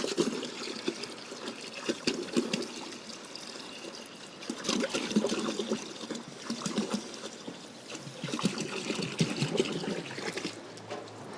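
Fresh water being poured into a sheep's water container, an uneven splashing trickle that swells and fades in several surges, close by, with no talk.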